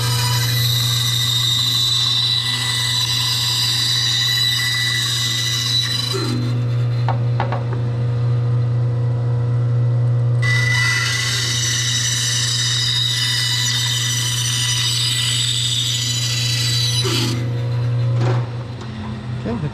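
Band saw cutting wood for a step stool, a loud continuous motor hum with two long rasping cuts through the wood, each ending in a softer scrape before the blade runs free.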